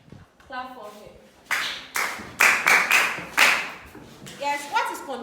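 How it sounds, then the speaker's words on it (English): A classroom of children claps for a student in several short, rhythmic bursts, with a voice and a teacher's voice speaking before and after. "Clap for him."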